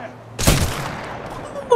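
A single loud gunshot from the shooter Titanfall 2 cracks out, followed by a decaying echo, with a fainter weapon sound near the end.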